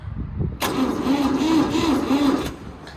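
A dump truck engine at an equipment auction cranks steadily for about two seconds with a rhythmic, labored churn but never catches, then falls quiet.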